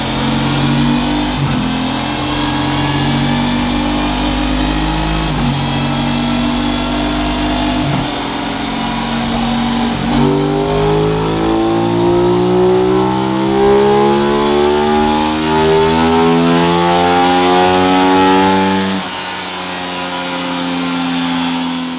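A 2021 Aprilia RS660 parallel-twin sport bike roars on a dyno, engine note climbing steadily through repeated loud revs, held near and continuous with a brief dip near the end.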